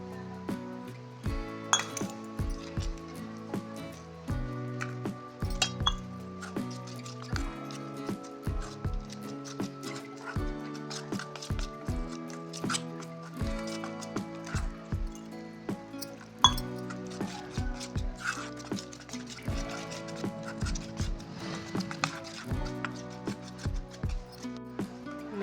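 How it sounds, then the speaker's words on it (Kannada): Spoon clinks and taps against a bowl as water is mixed into batter for baby corn Manchurian, a steady run of bright chinks over the whole stretch with soft wet drips, heard under a continuous musical backing. "ನಾನೀಗ ನೀರು ಹಾಕೊಂಡು ಮಿಕ್ಸ್ ಮಾಡ್ಕೊಳ್ತಾ ಇದ್ದೀನಿ."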